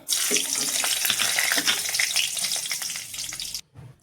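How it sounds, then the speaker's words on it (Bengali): Dried red chillies frying in oil crackle with a loud, dense sizzle close by, which fades slightly before a brief quiet gap and a final clink. "তিনটা শুকনো লঙ্কা ভাজিয়ে নিব"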